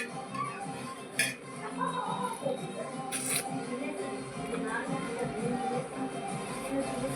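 Sugar being mixed in a bowl brings light, irregular clinks and scrapes of a utensil against the dish, soft and close with a couple of sharper taps and a quiet room behind.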